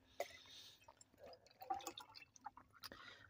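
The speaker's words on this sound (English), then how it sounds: "I pour it into a jar with a lid." Juice poured into a jar with a lid at home, heard as close, quiet splashing and dripping with small glassy clinks in an otherwise still room.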